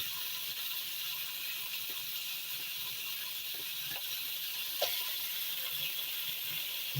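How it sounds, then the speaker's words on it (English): Bacon sizzles in a frying pan, a steady soft hiss with faint crackles that carries on evenly throughout, with no one talking. "I hear that frying."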